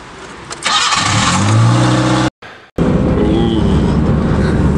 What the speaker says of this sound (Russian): Слышу звук мотора.